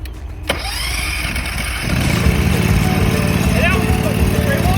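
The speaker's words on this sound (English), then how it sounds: "This right here, this is our water pump." A fire brush truck's water pump engine starts with a sharp pull at half a second, then settles into a steady, loud, rumbling idle close by that continues to the end.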